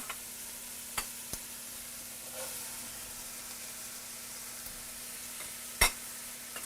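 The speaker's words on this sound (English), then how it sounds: "I'm going to go ahead and add our carrots, onions, and celery." Carrots, onions and celery cook in a pot with browned sausage for a Swiss chard soup, giving a soft, steady sizzle with a few sharp spoon clicks and scrapes against the pan.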